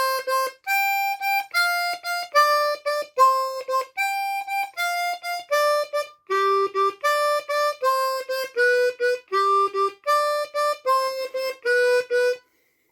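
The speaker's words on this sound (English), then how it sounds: "So for the 4 chord, we're going to play 4 blow, jump to the 6 blow, 5 draw, 4 draw." Diatonic blues harmonica plays the four-chord pattern, 4 blow, 6 blow, 5 draw, 4 draw, as a clean run of sustained reedy notes in steady rhythm, solo and close.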